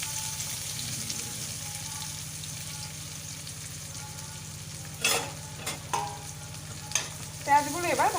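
Chopped onions added to oil already tempered with white cumin seeds, frying in a pan for a Bengali tilapia curry; a steady loud sizzle throughout, broken near the end by a few sharper stirring clatters.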